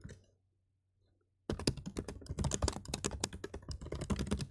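Computer keyboard typing and clicking starts after a quiet pause, a dense rapid run of close key clicks going on without a break.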